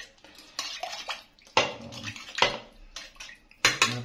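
A metal spoon knocks and scrapes against a pot while thick Pata Tim braising sauce is cleared from it, giving a run of irregular clinks and wet scrapes, close and fairly loud, with no talking.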